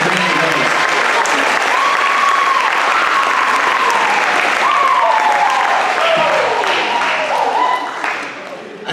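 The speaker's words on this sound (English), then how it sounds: "How about a round of applause for the jokes tonight for Brennan Rose?" Sustained audience applause fills a school band concert hall for nearly nine seconds, dense and loud, with scattered cheers and whoops riding over it before it begins to thin at the end.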